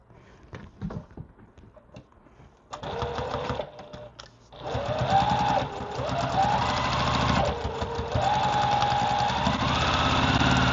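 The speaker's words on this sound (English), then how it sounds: "We're just going to sew those 2 lines start to finish." A sewing machine stitches quilt pieces in bursts, starting with handling noises, then running in a rapid close mechanical whir whose speed rises and dips between runs, with no voices.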